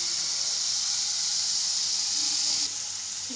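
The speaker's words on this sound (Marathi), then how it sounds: "आणि तेल बघा असं तडतड होतंय" Oil crackling in a home kitchen pan with a green chili, onion and tomato, a steady hissing sizzle that holds evenly close up, then drops slightly in level near the end.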